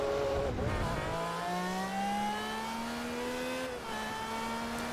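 Lamborghini Aventador SVJ racing in Forza Motorsport 3, its engine note climbing steadily through the revs, cutting briefly on a gearshift and then rising again, loud and close with no talking.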